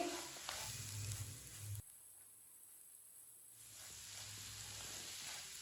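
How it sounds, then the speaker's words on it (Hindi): Semolina roasting in a pan with cooked spices gives a soft, steady sizzle with faint scraping, dropping out briefly partway through, quiet and with no one talking. "सूजी को 2 मिनट के लिए भून लेंगे।"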